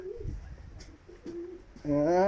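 Pigeons coo softly as they enter a loft, giving a few low, throaty calls close by. A louder burst of cooing comes near the end.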